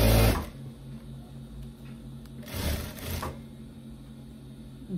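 Sewing machine stitching the sleeve seam of wide-leg pants, a steady low mechanical hum running throughout with brief louder bursts near the start and middle, close and alone.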